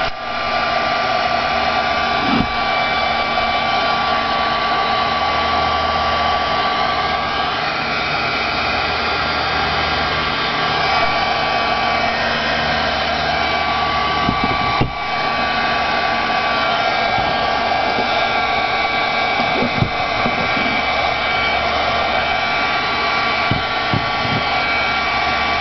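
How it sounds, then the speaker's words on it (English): A heat gun drying paint on a clothespin craft blows a continuous, loud, steady whine and rush of air, with a few faint handling clicks. "I'm going to go ahead and use my heat gun to dry my painted areas."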